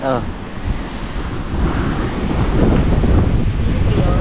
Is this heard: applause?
no